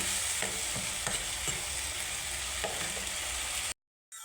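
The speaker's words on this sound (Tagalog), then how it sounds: "Yan mga lods, haluin natin." Pancit canton noodles being stirred in a sizzling pan, with steady frying hiss and repeated scraping strokes of the spatula, ending in a brief sudden silence.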